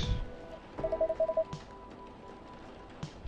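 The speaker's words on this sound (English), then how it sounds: "Well, somebody's phone is ringing." A phone ringing inside the Coffee Talk video game, a short burst of rapid, evenly pulsed electronic trill tones near the start, over a quiet low background with no voices.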